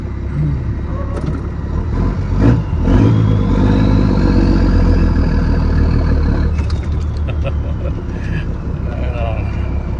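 A First Gen Cummins diesel truck fitted with a stack rumbles along, its loud engine rising in a rev near the start and then droning steadily, with people talking over it.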